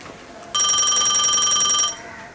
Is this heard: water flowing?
no